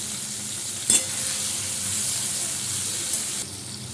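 Tomatoes and green chilies fry with potatoes and garlic in a pan, giving a steady close sizzle with a sharp clink of a utensil near the start and another scrape toward the end.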